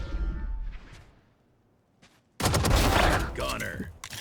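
Frenzy pistol fire in Valorant during a competitive league match, a sudden loud burst of rapid shots starting partway through, preceded by quieter game sounds and crowd or caster noise.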